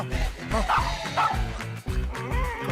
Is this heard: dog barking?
yes